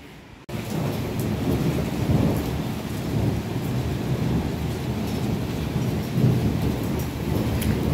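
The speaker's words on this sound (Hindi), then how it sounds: "पहाड़ में आने लगी है बहुत तेज बारिश" Heavy rain pours down in the mountains with thunder rumbling through it, a dense loud roar that starts abruptly and continues steadily without speech.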